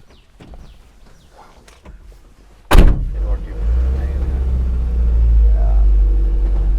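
A Mahindra Bolero pickup truck door shuts with a loud thump after faint bird chirps, then the engine rumbles steadily and builds as the manual pickup drives off on a coffee plantation.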